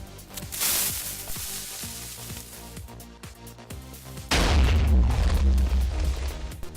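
TNT cannon in Minecraft fires, with a run of clicking ticks and a muffled early pop, then a loud booming blast that rumbles on to the end.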